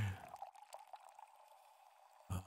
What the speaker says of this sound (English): Oh, now that's some good water pouring